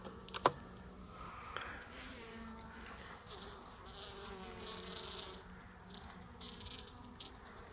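Bees hum and buzz faintly around a hive during a swarm check, a soft continuous drone with a few sharper passes close by and some quiet handling noise.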